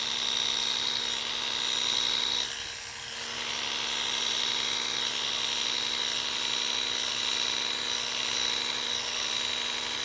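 Electric hair clippers buzz with a steady high-pitched whine, dipping briefly as they pass through hair during a haircut at home, with no talking.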